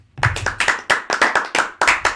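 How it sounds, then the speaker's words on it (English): Rhythmic hand clapping on a sports podcast, about nine sharp claps at an even, quick pace, loud and close, with nobody talking. "We clap it up one time."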